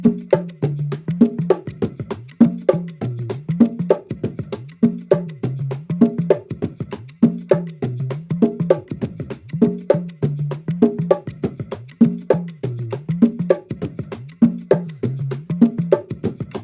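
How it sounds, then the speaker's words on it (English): Bongos carry a steady repeating pattern of open tones and alternating low and high strokes, crisp and close, the hits looping in an even groove with no voices. "Now we're gonna play tone in the first, tone in the second, and we're gonna keep playing low and high"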